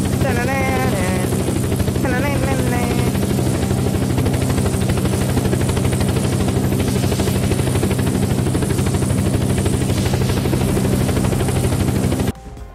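A helicopter in the video game Unturned, a steady loud rotor and engine drone with a strong low hum running continuously, with brief tonal sweeps early on before cutting off near the end.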